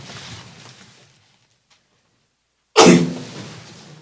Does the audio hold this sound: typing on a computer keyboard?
no